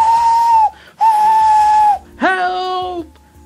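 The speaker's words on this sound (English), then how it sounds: "Poor James disappeared under the bridge, whistling for help." A cartoon steam engine's whistle, heard as three loud sustained tonal blasts, the first two steady and level, the third sliding up in pitch before fading.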